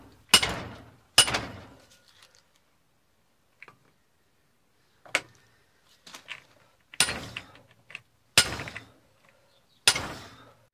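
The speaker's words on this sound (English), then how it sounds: "I'm just going to put this hammer in and just smack on the top of it with the other hammer until it drops out the bottom" Hammer strikes on a second hammer drive out a 2005 Ford Transit Connect front wheel bearing held in a vise, coming as about seven sharp, ringing metallic hits spaced a second or more apart with quiet gaps between.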